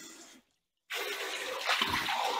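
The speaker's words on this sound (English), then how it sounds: "hot water to my rice." Hot water pours from a kettle onto rinsed rice in a pot, a soft splash, then a short silence, then a steady rushing pour that grows fuller as the water lands.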